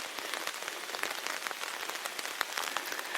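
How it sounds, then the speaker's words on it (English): Heavy rain pours steadily on the Englewood Logging Railway, a dense hiss of countless drops pattering on surfaces with scattered louder splashes, no voices. "it wouldn't really be the Englewood Railway if it wasn't pouring down rain"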